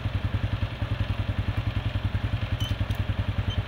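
A motorcycle engine idles at low RPM while powering a UPS battery charge, giving a steady, rapid thudding pulse that runs evenly and close-up throughout, with faint clatter above it.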